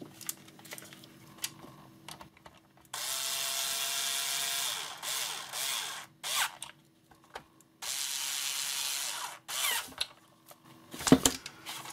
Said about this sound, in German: Wir können das Gehäuse draufschrauben. So, ich schraube das eben schnell zusammen.